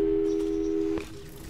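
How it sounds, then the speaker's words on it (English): Telephone call tone from the Portal 2 video game: a steady, clean electronic hum holds for about a second, then cuts off with a soft click as a fainter tone follows. "let's give your parents a call right now"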